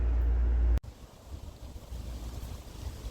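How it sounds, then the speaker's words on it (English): Breezy wind blowing outdoors, a steady low rushing roar buffeting the microphone after a brief loud burst at the start, continuing alone with no talking. "It is a bit breezy out today."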